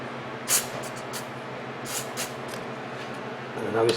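Short hissing bursts of CRC electronic cleaner spray onto a part of a Samsung Chef microwave oven, several quick squirts spaced irregularly, close up over a quiet background.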